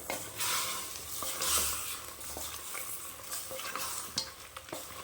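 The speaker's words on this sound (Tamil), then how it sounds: "இது மாதிரி நல்லா கலந்து விட்டுக்கோங்க" Mutton chukka being stirred as it fries in a pan, with a steady sizzle and repeated scraping and clinking of the spoon against the metal, fairly close and continuous, with no talking.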